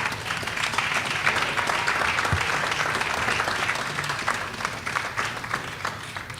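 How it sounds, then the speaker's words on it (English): An audience stands and applauds students at a school business event, a steady, dense clapping that fills the room for the whole stretch, fairly loud and even with no voices standing out. "I think we should stand and give them a big round of applause."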